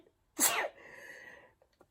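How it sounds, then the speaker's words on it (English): A single sharp, close sneeze bursts out, followed by a soft exhaling breath and a couple of faint clicks. "Excuse me, I'm going to sneeze."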